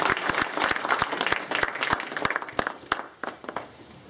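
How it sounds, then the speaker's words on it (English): An audience gives a round of applause at a success talk by Dr. Daniel Gebremedhin, a full burst of many hands clapping at once, with sharp individual claps standing out; it thins toward the end. "Please give yourself a round of applause."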